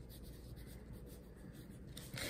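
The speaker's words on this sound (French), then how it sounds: "Ce qu'on va faire dessiner comme un dinosaure en dessous de l'écriture violette" A pen drawing a dinosaur on paper, faint continuous scratching strokes close by, with a brief louder scrape at the end.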